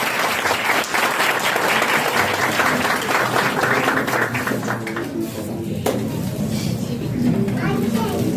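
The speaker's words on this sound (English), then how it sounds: "Do please welcome him by our clapping." A room of listeners claps to welcome a speaker at a talk on personality and leadership development. The dense, loud applause runs for about five seconds, thins out, and then a voice begins speaking.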